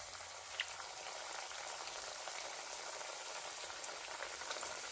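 Caribbean bakes, dough dumplings, fry in olive or grapeseed oil with a continuous, even crackling sizzle, close and steady throughout with no talking.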